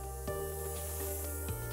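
A spray bottle gently mists water over a head of hair during a salon blow-dry, a few soft hissing puffs coming in quick succession, close up.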